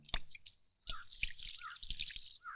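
Hands are washed with water outdoors: scattered splashes and drips land close by in short irregular bursts, while birds chirp faintly in the background.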